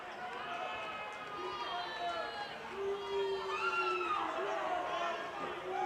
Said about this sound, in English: That really got this crowd pumped up